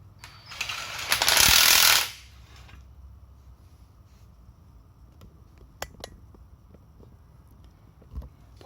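A DTW190 18V cordless impact wrench (190 N·m) fastens in one loud rattling burst of about a second, followed by quiet clicks and small handling noises.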